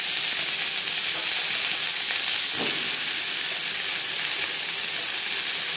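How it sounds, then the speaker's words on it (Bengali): Pointed gourd (potol) frying in hot refined oil, a constant bright sizzle and hiss that stays even and close, with one brief soft clink partway through. "সামান্য পরিমাণে রিফাইন্ড অয়েল গরম করে নিয়েছি। এবার আমি পটল হালকা করে ভেজে নেব।"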